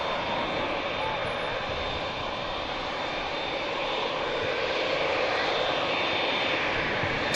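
An EasyJet jet airliner takes off at Manchester Airport, its engines giving a steady, loud broadband roar that holds throughout and swells slightly toward the end.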